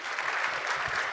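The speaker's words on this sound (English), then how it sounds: "Let's give a round of applause for Jonny Bowden." A live audience claps steadily and continuously at the end of a conference talk on GLP-1 drugs and insulin resistance, a dense, even wash of applause heard close throughout.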